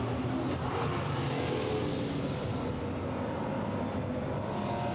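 A pack of GT4 race cars on their formation lap at Misano, a steady broad engine roar with a low rumble held at constant loudness throughout, no distinct single pass-by.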